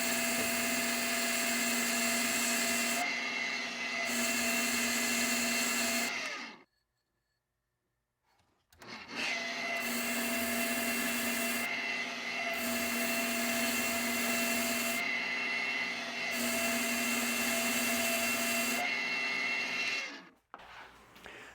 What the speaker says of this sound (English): I have a polisher and this seems to work very well.